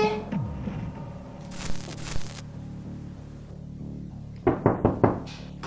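A few quick knocks land on a door in a family drama scene. They come as a short cluster near the end, after a stretch of low hum and soft background sound.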